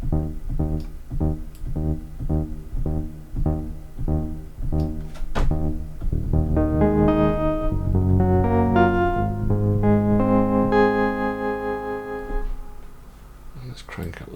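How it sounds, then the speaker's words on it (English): Guitar plays a steady rhythmic strum, then sustained chords bloom into a wide, shimmering plate reverb wash from a Mercury 4 effect that rings on and fades at the end. "Let's switch to plate, which is my favourite reverb, and let's listen to what it sounds like."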